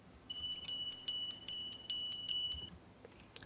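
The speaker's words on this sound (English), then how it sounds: "And here's a nice bell loop." A looping bell pattern with bright, ringing tones struck in a steady rhythm, repeating for a few seconds before stopping, followed by faint clicks.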